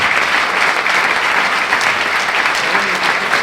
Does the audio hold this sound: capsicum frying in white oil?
no